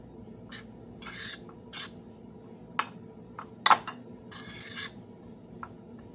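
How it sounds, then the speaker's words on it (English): A spoon scrapes and rasps around a bowl while ingredients are mixed for a keto supper, giving several short, close strokes with brief gaps and one sharper clink against the side. "We want to mix this together."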